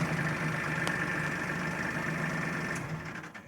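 Kubota L3800 tractor engine idling with a backhoe hooked up, a steady low drone with a faint hum over it, close by and then easing down near the end.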